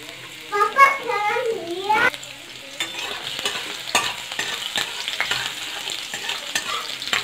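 Oil crackles and sizzles steadily as chopped garlic fries in a pan, with a brief stir at the start and a voice talking early on.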